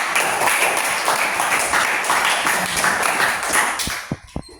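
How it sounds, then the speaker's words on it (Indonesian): Students in an Indonesian-language class clap together, a dense steady patter that holds for about four seconds and then thins to a few scattered final claps. "Betul, beri tepuk tangan."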